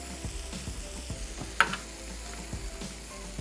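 Chicken creamy handi, made with pineapple, fries in reheated oil, a steady close sizzle broken by scattered stirring scrapes and one sharp clink of the utensil, no talking.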